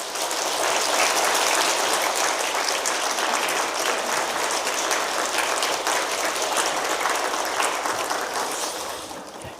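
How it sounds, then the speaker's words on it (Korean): Loud, sustained applause from a large church congregation at a Sunday worship service, dense and steady throughout, tapering slightly at the very end. "뜨거운 박수로 맞이해 주시기 바랍니다."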